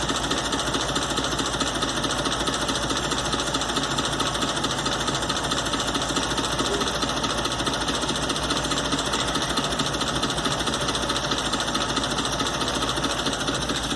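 A car engine idling steadily after its carburetor air-fuel mixture has been adjusted, giving an even, continuous mechanical hum with a fine rapid ticking, close and unchanging, no talk.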